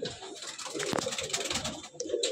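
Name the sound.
Andhra pigeons cooing in a loft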